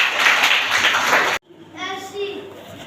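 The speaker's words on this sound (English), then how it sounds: "Clap for him." A burst of children's clapping in a school classroom, dense and lively, cuts off suddenly and gives way to a voice.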